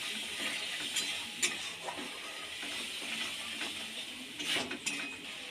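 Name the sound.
stirring catla fish oil with turmeric and salt in pan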